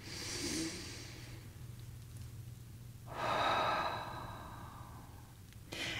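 During a quiet guided meditation, a single deep breath is drawn in and released as a long soft exhale, close and breathy against a steady low hum.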